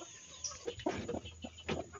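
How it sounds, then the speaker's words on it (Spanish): A broody hen clucks in short, close murmuring bursts, a few soft throaty notes spread over two seconds in quiet surroundings. "Vean nuestra gallina clueca."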